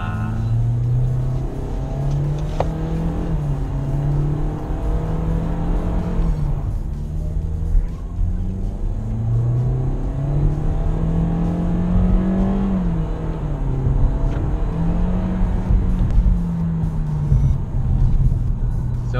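A Scion iM with an automatic transmission, driven in sport mode, accelerates from inside the cabin. The engine drones as it climbs, then drops at each gear shift and climbs again several times, with occasional talk underneath.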